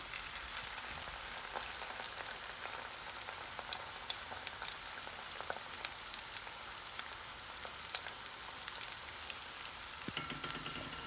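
Cabbage manchurian balls sizzle and crackle steadily in hot oil in a pan, a dense close frying hiss dotted with sharp pops and a soft stir near the end.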